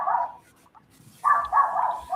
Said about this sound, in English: I want to apologize for my poodle. She's barking in the backyard.